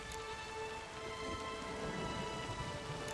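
Steady rain pours through a storm in The Witcher 3, a dense continuous hiss with low rumbling thunder underneath, moderately quiet and unbroken, no voices.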